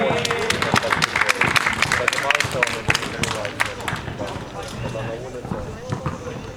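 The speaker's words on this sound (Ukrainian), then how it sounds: "Давайте аплодуємо, привітаємо команду." Applause for the winning team at the final of a youth league competition, sharp irregular claps from a small crowd that swell and then thin out, with people talking over them.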